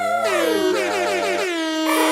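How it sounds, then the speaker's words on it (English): A loud, blaring air horn blast holds steadily for about two seconds, with a brief shift in pitch near the end. "Jeff, I'm a little heavy on the air horn today"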